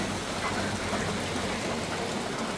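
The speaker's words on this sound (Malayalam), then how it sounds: "നല്ല മഴ" Heavy rain falls steadily outdoors at night during a roadside stop while travelling near Tenkasi, making a dense, loud, unbroken wash of patter with no voices.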